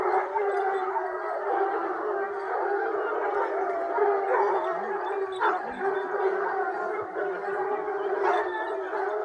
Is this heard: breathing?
no